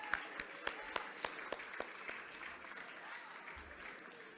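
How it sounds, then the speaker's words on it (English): A round of applause from a small crowd at a benefit dinner, scattered sharp claps early on blending into steadier clapping that gradually fades toward the end. "Let's have a round of applause for Chris and Nick together"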